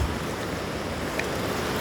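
Small, slow waves break over a rocky reef at K-38 surf beach in Rosarito, a steady, loud, close wash of surf with some wind noise and no talk.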